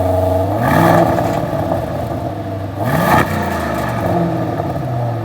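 A 542-horsepower V8 SUV engine, loud and close, revving up twice in rising swells over a continuous low rumble.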